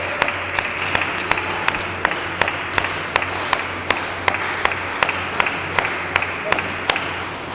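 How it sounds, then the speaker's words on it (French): A small crowd of about ten spectators at a padel match clapping in a steady, evenly spaced rhythm, each clap crisp and moderately loud over a constant background hum. "Allez, ça applaudit, il y a 10 personnes là, qui ont suivi."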